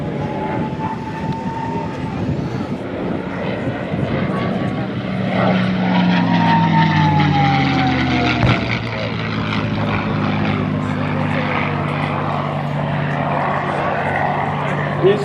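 A P-51 Mustang propeller fighter performs aerobatics at an airshow, its engine drone swelling and shifting pitch as it passes, loud and continuous, with an announcer talking over it.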